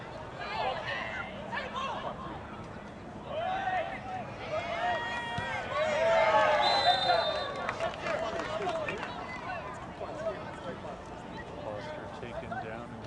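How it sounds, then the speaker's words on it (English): Crowd noise from fans in the stands at an under-21 men's reserve championship final soccer match, a broad murmuring swell that rises to a peak midway and then settles, with a commentator's voice running over it. "Could hear the consternations from the fans in the stands."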